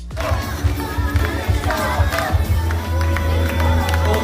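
Cast members and waiting fans cheer and shout excitedly in an ABS-CBN studio as two actors arrive, a dense, lively crowd din of overlapping yells and chatter with scattered clapping.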